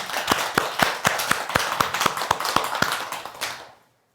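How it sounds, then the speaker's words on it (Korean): A small group at a Buddhist temple gathering claps along in a regular rhythm, with about a dozen evenly spaced sharp hand claps over a softer bed of scattered clapping before it fades out. "박수 한번 크게 쳐주죠"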